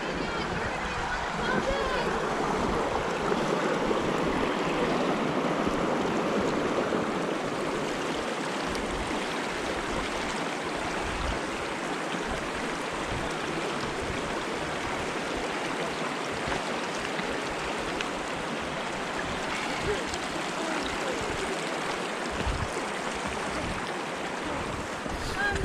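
A mountain creek at a confluence of forks along a high trail rushes steadily with a broad, continuous wash of flowing water, loud and close, with little change throughout.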